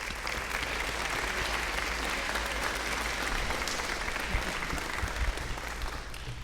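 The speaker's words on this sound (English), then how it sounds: "OWU, a round of applause, that'd be fantastic." Steady, dense applause from a concert audience at a summer music camp band finale, sustained at an even level throughout with no talk over it.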